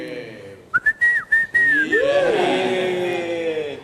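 A person whistles a short run of rising and sliding notes, close and clear, after a few brief clicks, with a sustained tone trailing off.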